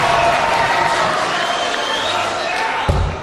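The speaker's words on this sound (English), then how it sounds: "The crowd is rocking into anticipation." A packed crowd at the 2009 PDC Grand Slam of Darts final roars and cheers in steady, loud anticipation throughout, with a sharp thud near the end.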